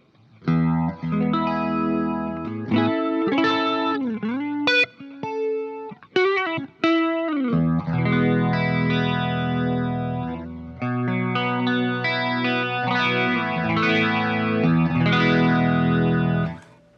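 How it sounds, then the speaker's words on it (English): Electric guitar through a rotary speaker effect on an Axe-Fx II, clean-to-driven chords and single notes with a warbling, swirling modulation and some echo, played alone at moderate level with short pauses between phrases. "the only other thing I have on this preset is a rotary"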